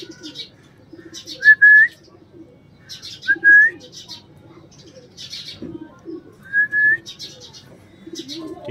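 Golden kalanch pigeons coo softly and repeatedly nearby, mixed with high chirps and a few short whistles from other birds.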